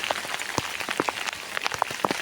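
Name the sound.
heavy rain in misty hills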